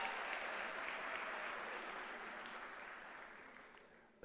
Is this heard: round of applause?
yes